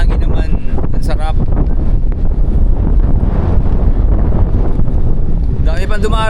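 Strong wind buffets the microphone with a constant loud roar, while voices speak faintly underneath in places.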